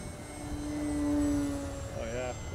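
An RC model F6F Hellcat plane passes overhead at well under half throttle, its steady engine drone swelling toward the middle and then fading, with a pitch sweep near the end as it goes by.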